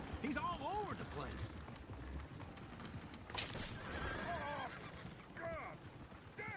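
Horses neigh and whinny repeatedly in Red Dead Redemption II, with clip-clopping hooves and steady game ambience beneath and a voice talking over parts of it.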